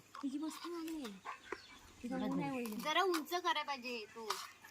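Chickens cluck and squawk continuously, fairly close and busy, on a home vegetable farm, with no talking in between.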